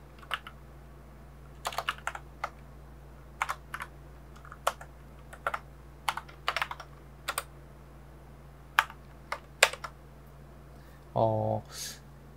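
Keys clatter on a computer keyboard in irregular bursts of quick taps with pauses between, close and fairly quiet over a low steady hum, ending with a short louder clunk.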